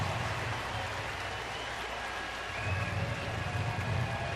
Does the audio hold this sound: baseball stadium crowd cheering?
yes